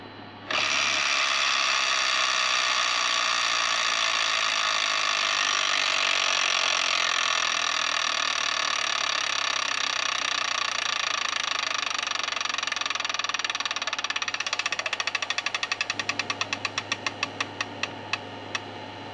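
An electronic tabletop Wheel of Fortune game wheel spins with a steady whirring buzz that turns into rapid clicks, which slow and space out as the wheel comes to a stop.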